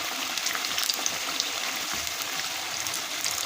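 Egg pakoras, made from halved boiled eggs, frying over heat in oil until crisp on the outside, giving a steady, even sizzle and hiss with no talk.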